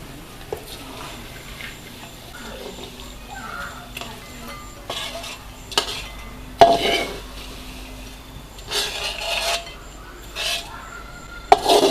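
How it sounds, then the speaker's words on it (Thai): Fried garlic, cooked golden and crisp on low heat for boat noodles, is tipped from the pan into a bowl. There are scattered clinks and scraping clatters of metal on crockery, a couple of sharper knocks, and a soft background hiss. "พอเหลืองกรอบได้ประมาณนี้ปิดแก๊สได้เลย เทใส่ถ้วยครับ"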